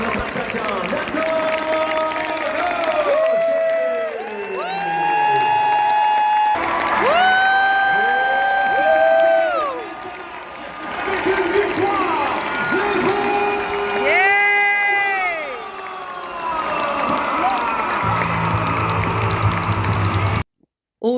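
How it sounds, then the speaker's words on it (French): An arena crowd at a Remparts hockey event cheers, whoops and applauds loudly for a forward, with swelling waves of shouts and an announcer-style voice over the noise throughout. "Applaudissez chaleureusement notre attaquant, Nato"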